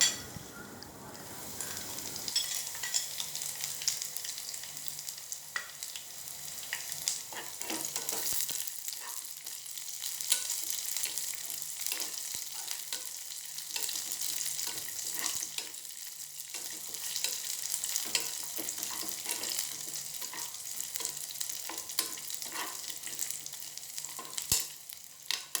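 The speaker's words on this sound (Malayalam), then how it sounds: "ഉള്ളി നന്നായിട്ട് മൂത്ത് വരുമ്പോഴത്തേനും അതിലേക്ക് അണ്ടിപ്പരിപ്പും മുന്തിരിയും ചേർത്ത് നമുക്ക് നന്നായിട്ടൊന്ന്" Cashews, raisins and shallots sizzle and fry in ghee in a pan, a continuous crackling hiss with occasional stirring clinks, close and steady with no talk.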